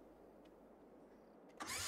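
Tractor engine in Farming Simulator 22 catching near the end: a sudden loud broadband start-up burst after a quiet stretch of low game ambience, continuing as a steady rough roar.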